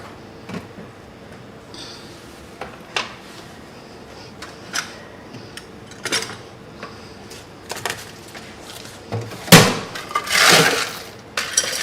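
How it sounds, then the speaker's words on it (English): Ice cubes clink into a glass at a bar competition, scattered light ticks and rattles building to a louder tumbling clatter near the end, close up with no talking. "I'm gonna fill my glass with ice."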